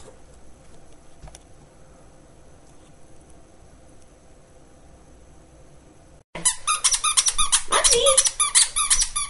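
A dog chews a squeaky ball toy, setting off a rapid burst of loud, high squeaks after several seconds of near silence, with a person calling out over it.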